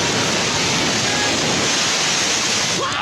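Large waves pound a fast craft at sea off Ormoc, a dense, continuous roar of rushing water and spray that stays loud and steady throughout, with no clear separate impacts.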